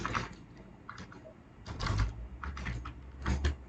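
Keys clatter on a computer keyboard in short clustered bursts of quick strokes separated by brief pauses, close and moderately quiet, with no voices.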